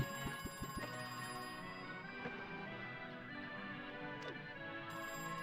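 A telephone in the video game Crow Country rings repeatedly with a bright electronic trill, steady and fairly faint, over a low background hum.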